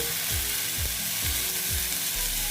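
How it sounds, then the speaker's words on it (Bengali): Raw green mango chutney frying in a pan, a steady sizzling hiss with a few soft stirring scrapes from a spatula, close and continuous with no talking. "এটা আমি এখন একটু ভেজে নেব"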